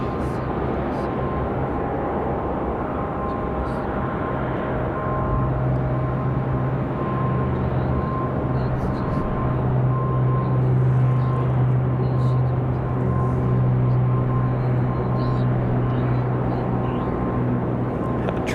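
A Breeze Airways airliner departs Raleigh-Durham International Airport, its steady broadband engine roar holding throughout with a low droning hum that swells in the second half, while voices talk over it.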